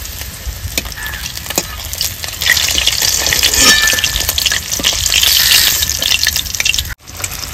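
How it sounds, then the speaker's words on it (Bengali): Pieces of katla fish fry in hot oil with a steady, bright crackling sizzle that swells in the middle, with faint clinks and spatters throughout and a brief dropout near the end; no speech. "দেখুন মাছটা একদম লাল লাল করে যে ভেজে নিয়েছি"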